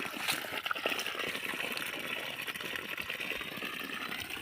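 Water sprays hard from the end of a long garden hose, a continuous faint hissing rush with small splashy fluctuations throughout.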